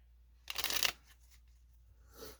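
Rise Magic playing cards are handled and shuffled. One dense, crisp riffle burst lasts about half a second, followed by near quiet and a faint rustle of cards at the end.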